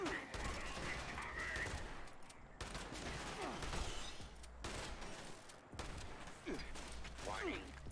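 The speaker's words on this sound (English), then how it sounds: "these guys, they shoot armor-piercing rounds" Enemy gunfire from armor-piercing rounds in Fallout 76: dense, near-continuous volleys of shots with only brief lulls, mixed with other battle sounds.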